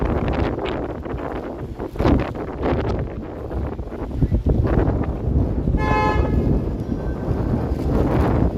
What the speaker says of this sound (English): My back to the wind here for a second.